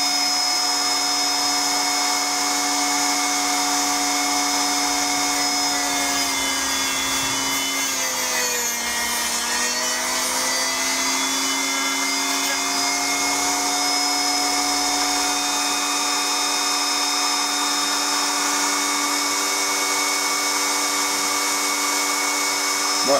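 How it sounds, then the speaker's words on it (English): A Dremel rotary tool cuts through thick laser-cut footbridge material with a steady, loud, high-pitched whine that holds throughout and dips briefly in pitch under load partway through, with no talking. "I think I use the Dremel because it's quite thick. I don't think a Stanley will get through it."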